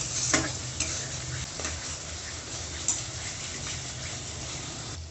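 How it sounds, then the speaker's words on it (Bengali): A spice paste for a fish curry cooks down in a pan, giving a quiet, steady sizzle with a few light knocks from stirring. "মশলাটাকেও ভালো করে কষে নেব।"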